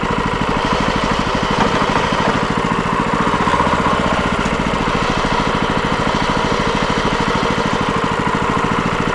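An excavator engine runs at a steady, loud chugging idle with a constant vibrating drone and no break while a track is spun back on.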